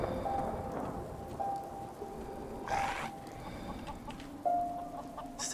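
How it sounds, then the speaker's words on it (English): Chickens cluck repeatedly in Fallout 4, with several short clucks scattered over a steady, rain-like ambient background. "They're fucking chickens."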